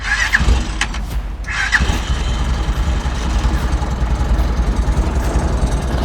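The 300cc engine of a cargo motorcycle dump truck runs loud and close with a steady, rough low rumble. A couple of brief clanks sound early on.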